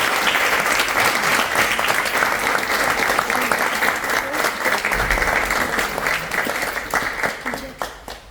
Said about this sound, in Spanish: Así que les pedimos un fuerte aplauso.